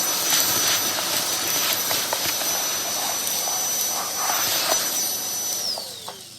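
A Milwaukee M18 compact cordless vacuum runs loud and steady with a high motor whine, picking up debris in scattered crackles before winding down near the end.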